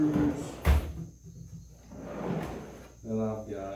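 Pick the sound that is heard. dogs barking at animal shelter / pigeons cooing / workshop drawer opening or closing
workshop drawer opening or closing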